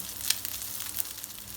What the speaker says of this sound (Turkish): Şimdi iyice güzelce kızartmaya devam ediyorum.